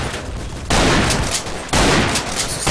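Gunfire in the Half-Life 2 mod Double Action: Boogaloo comes as two loud, dense bursts of rapid shots separated by a brief lull, close and harsh.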